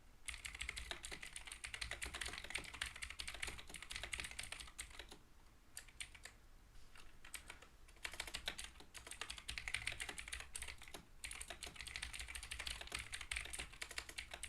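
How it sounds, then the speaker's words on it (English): Rapid clacking keystrokes from a loud computer keyboard run almost continuously during a live stream, with a short pause in the middle before the typing resumes at close range. "I don't know if you guys can hear my loud ass keyboard."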